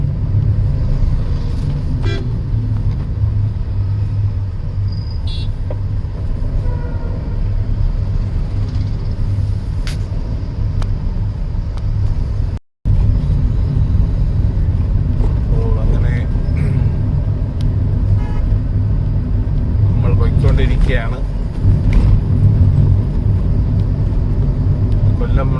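A car drives through city traffic in Kollam, its low engine and road rumble steady from inside the cabin, with occasional short horn toots from surrounding vehicles and a voice talking throughout.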